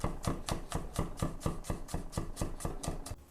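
A knife chops vegetables into thin julienne strips for Ukrainian borscht on a board, about fourteen quick, even, close knocks in a steady rhythm with no talk.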